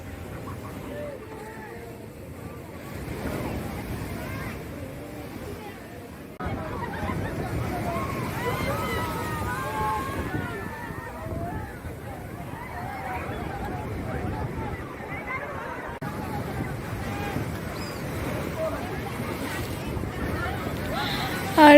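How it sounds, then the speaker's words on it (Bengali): Big winter sea waves break on a beach where people are bathing, a broad rushing surf that swells and fades under constant crowd chatter and nearby talking, with some wind buffeting. "কি বিশাল বড় বড় ঢেউ আসছে দেখো সবাই"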